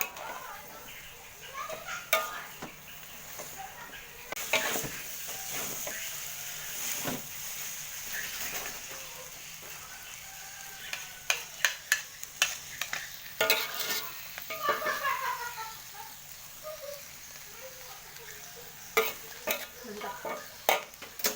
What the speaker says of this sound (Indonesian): setelah minyak masuk, kita pakai 2 sendok untuk mengaduk